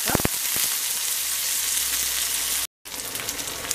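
Mustard seeds, sliced shallots and curry leaves fry in hot oil with a loud, steady, crackling sizzle heard up close. Early pops punctuate it, and there is a brief cut near the end.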